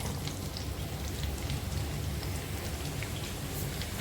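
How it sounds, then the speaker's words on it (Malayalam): Onions sautéing in about three tablespoons of hot oil in a pan, cooked as part of a chatti pathiri recipe. A steady, dense sizzle and crackle runs evenly throughout at moderate loudness, with no talk. "ഇനി ഇതിലേക്ക് ഉള്ളി ഇട്ടിട്ട് വഴറ്റിയെടുക്കാം"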